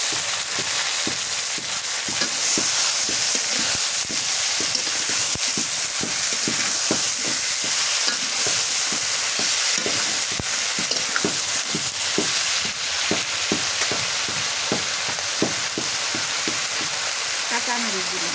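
Eggplant pieces fry in a hot pan, with a continuous loud sizzle broken by regular scraping stirs of a spatula, dozens of strokes in a steady rhythm, close up and without speech.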